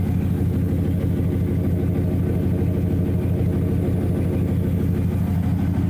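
A vehicle engine idles steadily through its exhaust, a low, even rumble with a fast regular pulse, close and unchanging, with no voices.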